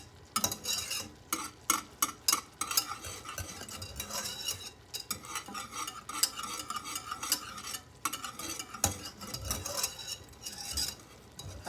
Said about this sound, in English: I've got a good boil here, so it shouldn't take much longer.